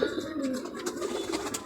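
A Ferozpuri high flyer pigeon coos softly and steadily at close range, a low, continuous throaty murmur.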